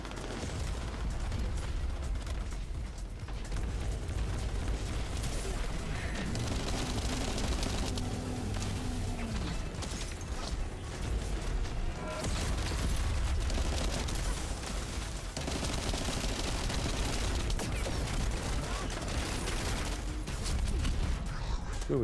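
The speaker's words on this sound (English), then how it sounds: "Still shooting at us." Enemy gunfire in The First Descendant video game, a dense, continuous barrage of shots and impacts running the whole stretch beneath a busy game soundscape, with a player's voice talking over parts of it.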